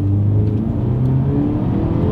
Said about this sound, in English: Let's do a quick little acceleration here in the X2, and let's see how quickly we can get this one here up to speed